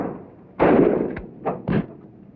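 Gunfire from a rear gunner's aircraft gun: one long, loud, rattling burst, then two shorter bursts close behind it, each cut off sharply, with no talking.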